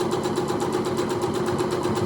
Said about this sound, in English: now we're going to sew these strips together using a 1/4 inch seam